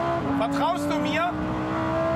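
A Lamborghini Huracán STO at full throttle in third gear gives a steady, strained engine drone heard from inside the car, while a voice talks over it.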